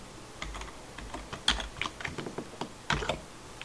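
Soft, uneven keystrokes on a computer keyboard, a quick run of light clicks with brief pauses and a few louder taps, close by and quiet.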